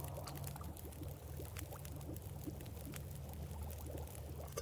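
Water pours softly and steadily in the survival game The Long Dark, a faint, continuous trickle with a low hum underneath and no voices.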